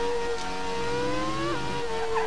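Formula One car in the Grand Prix II racing game for MS-DOS, a Benetton Ford at Imola, braking hard: a steady synthesized engine whine drops in pitch with a short tire screech, loud and continuous without a voice.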